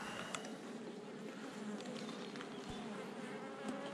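Honeybees at a beehive in late March, a steady, dense buzzing swarm close by, continuous throughout with a few louder individual passes near the microphone.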